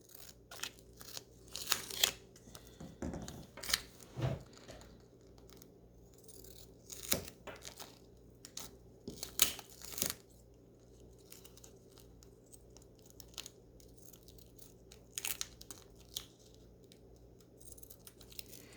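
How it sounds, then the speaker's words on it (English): Scissors snipping through tape and paper while crafting for a doll, with irregular bursts of close, crisp cuts and light rustling between quieter pauses, no talking. "Then I can remove the tape again, so easy to work with. And I'm just going to cut it out."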